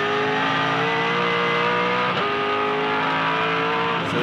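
Onboard sound of a 2007 V8 Supercar racing at Phillip Island, a loud continuous V8 engine roar with harmonics climbing through the revs, a brief dip around a gear change, then rising again.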